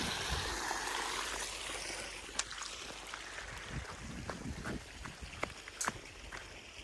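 Water squirting from a leaking joint in a farm irrigation pipe, a steady broad rushing spray with scattered clicks and splashes throughout, fairly close and continuous.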